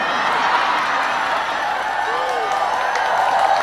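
Crowd applause and cheering at a lighthearted religious sermon gathering, a continuous wash of clapping with scattered whoops, steady and fairly loud from start to finish.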